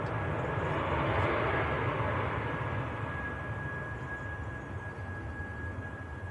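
An airliner arriving at Manchester Airport from Berlin gives a steady, moderately distant engine roar with a thin whine, easing slightly as it passes.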